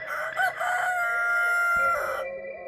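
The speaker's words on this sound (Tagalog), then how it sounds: "Hanggang sa marinig nila ang unang tilaok ng manok." A rooster crows at dawn, one loud, close, drawn-out cock-a-doodle-doo lasting about two seconds, with no other sound behind it.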